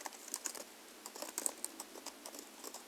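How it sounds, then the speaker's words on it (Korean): Computer keyboard typing during Excel data entry, a quick run of light plastic key clicks in uneven bursts, soft and close, with no voices. "규격이라고 입력하시고 Alt e n t e r 를 눌러서 자, 밑에 있는 내용을 입력해 주셔야 합니다"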